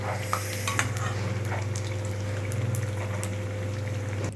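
Food being deep-fried until crispy in a pan over a low flame, a steady continuous sizzle with occasional small clinks and stirring sounds, close by and without speech.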